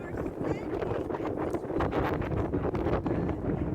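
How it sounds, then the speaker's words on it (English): Wind gusts buffet the microphone high up on a lookout point in Rotterdam, a rough, rumbling roar that swells and dips unevenly over a few seconds, with voices faintly mixed in underneath. "It does sound a little windy here."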